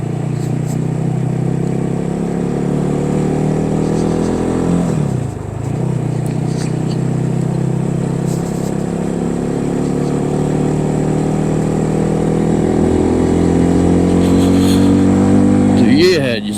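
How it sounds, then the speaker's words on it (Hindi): Quad bike engines run and rev steadily outdoors near Shigar, a continuous loud mid-pitched drone with rises in pitch at about five seconds and again near the end. "ये जी क्वाड बाइक्स हैं और इस तरह का सारा जो है सिलसिला यहाँ पे है।"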